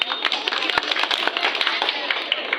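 An audience applauds a kindergarten scholarship prize winner at a results announcement, a steady patter of many hands clapping at moderate distance, with a voice speaking over it.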